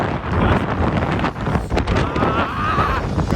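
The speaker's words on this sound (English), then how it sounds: "It's so windy." Strong outdoor wind buffets the microphone with a continuous loud rumbling roar and gusty bursts throughout.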